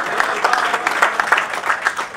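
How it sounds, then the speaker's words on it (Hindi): An audience claps in a hall at a devotional music evening, a dense, steady patter of many hands that stays loud and close for the whole stretch. "तो ताली होली तब तक पीटते रहिएगा जब तक कि हाल भर न जाए।"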